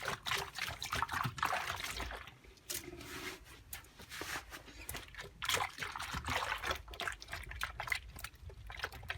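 Water runs steadily from a tap while a Dyson DC25 vacuum filter is rinsed by hand, a continuous splashing trickle with rubbing and dribbling, close by with no talk.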